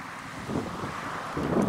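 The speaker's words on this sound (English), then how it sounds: "the wind is blowing so hard" Strong desert wind gusting past a saguaro cactus, a steady broad rushing with buffeting against the microphone that swells louder in two surges.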